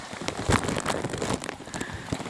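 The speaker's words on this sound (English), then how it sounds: "It is pouring." Heavy rain pouring during a thunderstorm while out in a canoe, pattering and splattering close by in an irregular crackling patter without speech.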